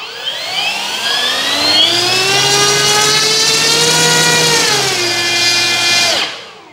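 A model-sized electric motor and propeller on an RC Pilatus PC-6 Porter whine steadily at high throttle, rising slightly in pitch, then the throttle is cut and the tone drops and fades out abruptly near the end.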